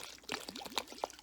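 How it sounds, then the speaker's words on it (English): Vinegar glugs and trickles from a bottle in a short burst of pouring, a few gurgling splashes close by and quiet, with no speech. "you just take your bottle of vinegar and you just keep pouring"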